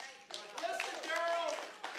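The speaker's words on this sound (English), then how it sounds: "Please save your applause to the end, please." A short burst of clapping at a protest, close and fairly quiet, with a voice speaking over it.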